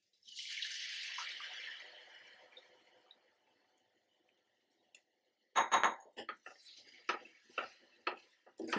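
Water is poured into a pot of fish pulusu curry as a steady, hissing splash that fades after a couple of seconds, followed by scattered clinks and taps.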